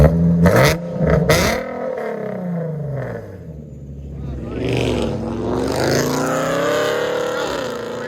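A 2017 Nissan 370Z with a 3.7L engine, headers and Magnaflow exhaust revs up close in a few sharp bursts, then settles into a rising and falling drone while people talk over it.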